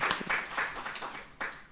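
Applause breaks out at a human rights commission workshop on the Fourth Industrial Revolution, a steady patter of hand claps filling the room with a fresh surge near the end.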